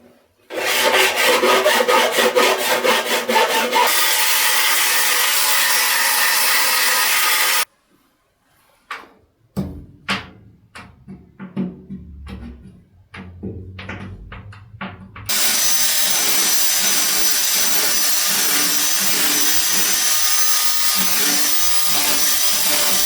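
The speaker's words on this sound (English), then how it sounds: "So I've welded all round there now. Now I've just got to grind it all back." An angle grinder grinds back fresh welds on a Ford Consul front wing, loud and close in long continuous stretches, broken in the middle by a quieter patch of sporadic clicks and scrapes before the grinding resumes.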